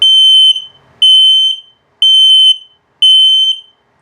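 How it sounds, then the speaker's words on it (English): An RV gas detector gives its low-battery alarm: four loud, close electronic beeps, each a high shrill tone about half a second long, repeating once per second with silence between them. "Now slow or low battery alarm."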